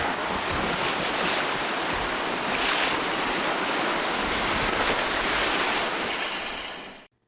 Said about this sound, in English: A storm rages all around, and waves crash against the rocks of the small island where the lighthouse is located.